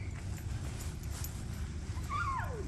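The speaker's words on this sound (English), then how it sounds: "confused puppies. They're like, why am I here?" Nervous puppies whimper at a crowded gathering, a thin high whine rising and falling near the end over a steady low rumble of crowd noise.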